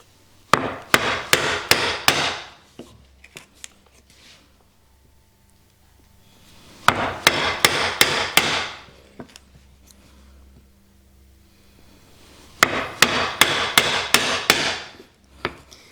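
A mortise chisel struck into wood, comparing Lie Nielsen and Narex tools, gives three separate bursts of sharp repeated knocks, each a quick series of close, crisp impacts, with quiet gaps between them.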